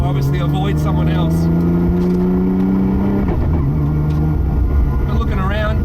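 A 1000hp widebody R33 Skyline GT-R with a sequential gearbox accelerating hard at full power: a loud, rising engine howl that climbs, drops sharply at a shift, then pulls again, with someone talking over it.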